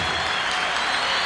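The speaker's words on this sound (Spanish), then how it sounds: "gracias por estar aplaudiendo estas canciones" Dense, continuous applause from a concert audience for a salsa orchestra, loud and close, a steady wash of many hands clapping with faint crowd murmur.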